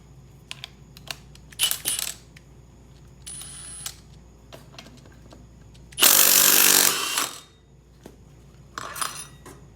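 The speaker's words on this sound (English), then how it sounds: "I'm gonna use an impact and take this off" Impact wrench spinning off the clutch on a Can-Am Renegade ATV during an STM clutch install, heard as one loud sustained burst of a couple of seconds amid scattered clinks and tool handling in a workshop.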